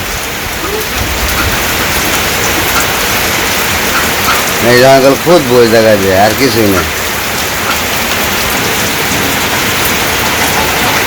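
Heavy rain pours down on a Bangladeshi village, a steady, dense, close hiss throughout, with someone briefly talking over it midway.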